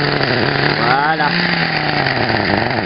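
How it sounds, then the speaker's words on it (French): A car engine idles roughly while running rich with a flooded mixture, giving a steady, loud, uneven chugging drone. A person talks over it. "le moteur il est au ralenti parce qu'il se noie un peu"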